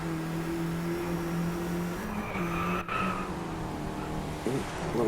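A Mini Cooper in the racing game Driveclub, its engine holding a steady tone before the tires lock up and squeal through a brief drift, with the engine note changing as the car slides.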